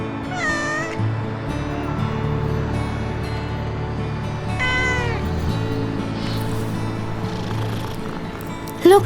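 A hungry kitten lets out two drawn-out meows, one early and one midway, over a low, steady musical backing in a children's animated story.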